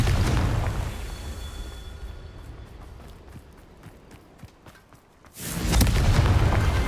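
A Confringo blasting spell in Hogwarts Legacy erupts into a loud, deep boom that opens the clip. A softer rumbling stretch with scattered thuds follows, then a second heavy blast hits near the end.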